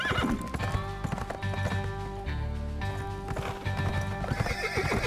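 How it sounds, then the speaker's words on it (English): In a video game, a horse's hooves clip-clop steadily while it neighs and whinnies over a busy game soundtrack, with no voices. "I bet they have a horse, yep."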